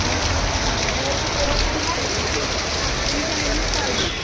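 Steady monsoon rain falls in Pune, a dense, even hiss of drops on surfaces that stays loud and constant throughout.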